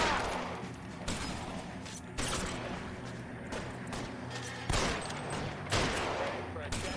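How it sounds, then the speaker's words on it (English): Repeated gunfire bursts in the LA Noire video game, loud cracks landing in clusters every second or so over a continuous rumble of game sound, with a player's voice talking at times. "I'm shooting my partner."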